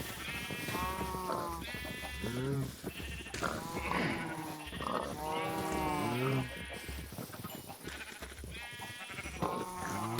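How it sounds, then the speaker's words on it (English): A flock of sheep on a small farm bleats almost continuously, with many overlapping wavering calls from several animals at a moderate distance over a steady background hum. "I'll just go keep this number of sheep for now."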